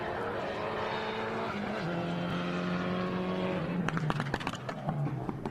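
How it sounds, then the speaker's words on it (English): Rally car climbing a hillclimb course, engine droning steadily before a burst of sharp anti-lag crackles and pops near the end, loud and close. "You hear that anti-lag crackle and pop."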